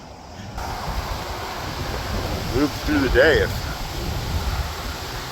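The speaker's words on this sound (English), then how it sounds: "it's this windy down here" Strong wind at Soldier Pass in California buffets the microphone in a continuous rushing roar, with brief speech partly buried beneath the gusts.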